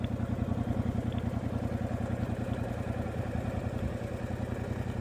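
A motorcycle on a Module 1 test layout in Gateshead pulls away and rides with a steady, throbbing mid-pitched engine note, fairly distant and moderately quiet, with no talking over it.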